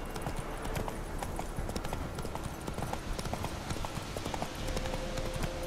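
Rhythmic clip-clop of a horse's hooves galloping steadily in The Witcher 3 video game, loud and continuous over dense in-game ambience, with a brief whinny.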